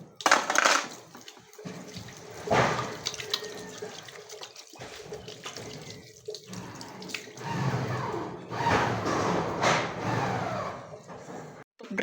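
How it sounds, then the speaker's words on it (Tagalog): Spoons being washed under running tap water, with intermittent splashing and trickling in bursts, some soft metallic handling sounds, and quieter gaps between the louder splashes. "Tapos meron dito hugasan na kutsara, isabay na natin."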